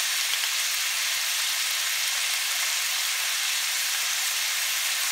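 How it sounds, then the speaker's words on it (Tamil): Finely chopped large onions fry in hot oil with a steady, even sizzle and hiss that holds at the same level throughout, heard close with no voices. "ஆட் பண்ணிட்டு நல்ல வெங்காயத்தை வதக்கிக்கோங்க"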